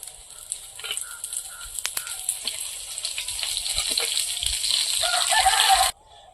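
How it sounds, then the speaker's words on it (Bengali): Bok flower fritters fry in hot oil, a steady crackling sizzle that grows gradually louder, then cuts off abruptly near the end. "বাকি বড়াগুলো সব ভেজে নেবো এইভাবে"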